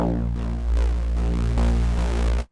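A Reese bass synth drones thick and detuned, its FM amount pulsed by a ramping LFO into a rhythmic throbbing that swells and repeats about every second before cutting off abruptly.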